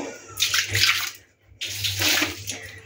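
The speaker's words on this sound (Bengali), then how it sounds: "জল দিয়ে ভিজিয়ে নেওয়া" Water splashes from a tap or is poured to wet and wash kitchen surfaces during cleaning, two close gushing bursts separated by a brief pause.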